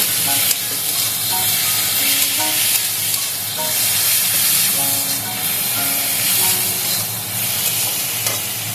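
Small fish chorchori curry being stirred in a frying pan, a steady close sizzle with scraping and clattering of the spoon against the pan in an uneven rhythm throughout, with no voices.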